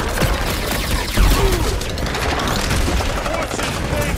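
Dense gunfire from the PlayStation 5 game Marvel's Guardians of the Galaxy, rapid continuous shots and a few heavier booms that are loud and close, with voices shouting over the firing.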